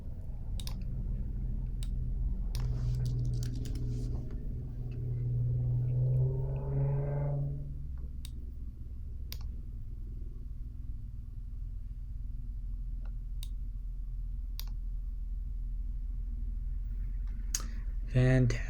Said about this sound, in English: And I'll click again and again.